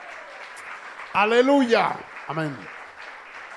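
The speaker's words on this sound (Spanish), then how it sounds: "aplauda al Dios del cielo si quiere" Church congregation applauding during a Spanish-language worship service, a steady wash of clapping running throughout with voices calling out over it.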